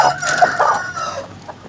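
Young Denizli chickens make a short burst of clucking and bright chick-like calls, close and fairly loud, several quick notes in under two seconds.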